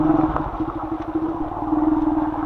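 A motorcycle rides over a rough, unstable village road during the monsoon season, its engine giving a steady close putter with some rattling clatter.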